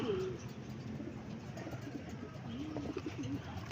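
Racing pigeons coo softly at the loft as they arrive, low throaty calls in a few bursts over outdoor background noise, with faint voices and a sharp bump at the end.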